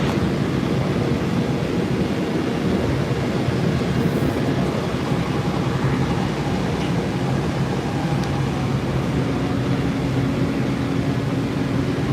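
Silver Line metro train in motion, heard from inside a car as a continuous loud low rumble and rushing roar with steady track noise and no voices.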